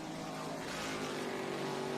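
A race car at Lime Rock Park during the Memorial Day Classic, its engine a steady, droning roar heard from some distance, holding a constant pitch throughout without talk.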